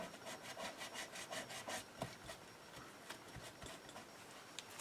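Rhythmic rubbing strokes as paint is scrubbed off a chipboard craft piece, a steady back-and-forth scratching repeated many times at close range, faint overall and with no talking.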